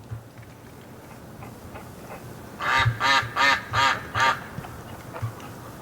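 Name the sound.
ducks quacking in the snow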